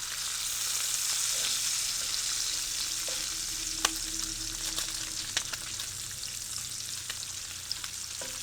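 A flipped crepe fries in a well-greased pan, giving a steady, even sizzle close by with a few faint ticks and small pops, no voices over it.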